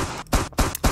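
Three loud, sharp gunshots from a first-person shooter game built in Unity, fired at a steady rhythm about a quarter second apart, each with a short burst and quick decay, no talking.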